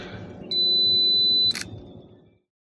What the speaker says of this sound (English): hit the shutter button. It helps.